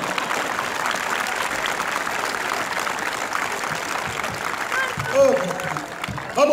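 Outdoor street audience applauding a comedian's show, a steady wash of clapping filling the space for several seconds, with a few voices and louder bursts near the end.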